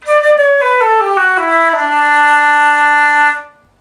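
A flute plays a descending run of low notes with lips stretched wider and air aimed down, ending on a sustained low tone with a full, steady sound before stopping.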